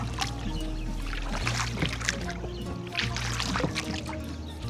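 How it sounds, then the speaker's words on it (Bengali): A wooden rowboat glides slowly across calm wetland water in the Makhsbil, with soft sloshing and lapping from the paddling over a low, steady rumble outdoors. "এই মখশবিলের শান্ত জলের উপর দিয়ে আমাদের নৌকার মাঝি ধীরে ধীরে এগিয়ে চলেন।"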